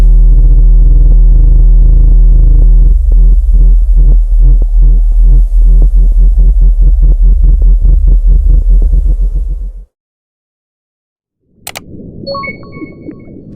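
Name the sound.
Bloop mysterious underwater sound recording from 1997, modified version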